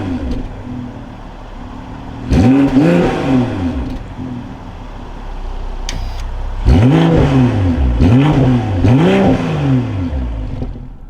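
A 2024 BMW M340i xDrive inline engine cranks and fires up, then a series of loud rising and falling revs blip the exhaust, close and with no talking.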